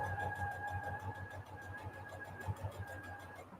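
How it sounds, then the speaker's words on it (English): Sewing machine stitching through stiff Peltex stabilizer, a steady mechanical hum with repeated rhythmic clunks throughout, fairly close and alone. "You can tell when you're sewing on the Peltex because you'll hear a big old clunk, clunk, clunk, clunk, clunk."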